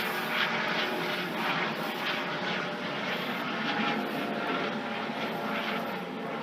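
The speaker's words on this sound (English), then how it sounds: "There's our police helicopter flying around looking for someone." Police helicopter flying overhead, a steady loud rotor and engine drone with pulsing blade beats that hold constant throughout, no voices.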